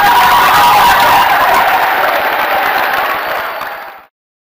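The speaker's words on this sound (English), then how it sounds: "Gentlemen, give a big round of applause to our first contestant for the day, Hamza Samir Al-Isa." A burst of applause for the first contestant at a 2019 public-speaking final: dense, loud clapping that carries on for about four seconds, then fades quickly to silence.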